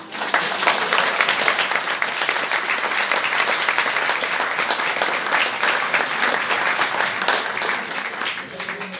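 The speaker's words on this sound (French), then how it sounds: "vos applaudissements pour tous ces nominés" A room full of people at a municipal sports and volunteer awards ceremony in Bagnères applauding the nominees, a loud, sustained wash of clapping from many hands that holds steady for several seconds.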